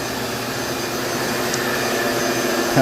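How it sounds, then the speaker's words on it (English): A palm sander runs across the edges of a piece in a workshop, a loud steady whirring hum sustained without pause throughout the short stretch. "I still have to go around these edges a little bit with the palm sander"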